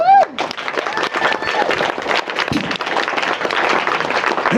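Wedding guests break into loose, sustained clapping that fills the room at moderate volume, with voices and laughter mixed in and talk over the top.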